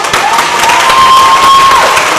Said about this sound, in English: If you clap hard enough, Hansel will live.